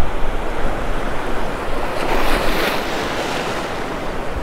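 Ocean surf rolls and crashes over a sandbar off a North Naples, Florida beach, a steady loud wash of breaking waves with breezy wind buffeting the microphone throughout.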